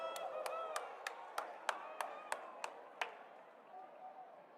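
Basketball crowd at a high school boys' varsity game reacting after a hard drive and foul, with a run of sharp claps and excited voices at moderate distance over a steady gym murmur.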